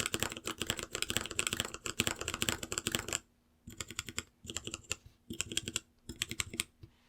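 Tactile Plum mechanical keyboard switches being typed on, producing a dense, steady clatter of close keystrokes for about three seconds, then shorter bursts of typing separated by brief silent pauses.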